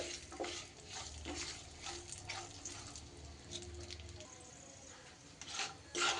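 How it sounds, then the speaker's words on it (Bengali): Cashews and raisins stir-fried in oil in a pan make a soft, steady sizzle with faint scraping stirs, fairly quiet throughout. "কাজু আর কিশমিশটা একটু নাড়াচাড়া করে নিতে হবে"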